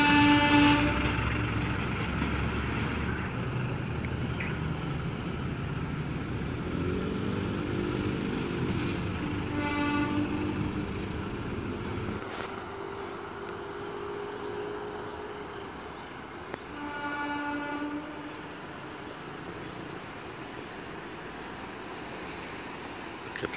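A KLB passenger train running from Bandung via Yogyakarta to Surabaya Pasar Turi rumbles through a station at close range, with steady rolling noise, wheel squeal and brake hiss that fade after about twelve seconds, leaving quieter station ambience.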